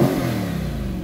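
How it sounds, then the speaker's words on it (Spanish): A 2023 Chevrolet Corvette Stingray 3LT convertible with Z51 package revved in Touring mode, a single close, loud engine burst that trails off over about a second. "Voy a mostrarle cómo suena el carro aquí con el modo de Touring. Déjeme acelerarlo aquí."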